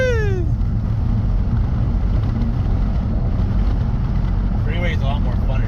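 An 800hp Hellcat-rival car accelerating hard on the freeway, heard from inside as a loud, steady engine and road roar that fills the whole stretch, with a rising whine at the start and a voice breaking in near the end.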